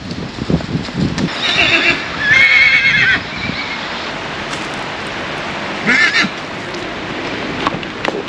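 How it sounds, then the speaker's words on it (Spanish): Horses grazing by a river in Armenia, with loud close neighs and whinnies in several bursts over a steady background, hoof clops mixed in and brief voices in the clip. "Mira, por ahí vienen más caballos."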